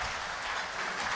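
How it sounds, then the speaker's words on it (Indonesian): Brief burst of steady applause from a gathered crowd at an Islamic village clerics' assembly in Indonesia, honouring Prabowo Subianto; dense, even clapping throughout. "tepuk tangan sekali lagi untuk Bapak Prabowo Subianto"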